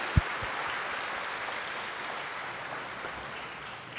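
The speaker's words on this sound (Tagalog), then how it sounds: "isa pa malakas na palakpak." A church congregation at Mass gives a steady round of applause, even and sustained throughout, with a single sharp knock near the start.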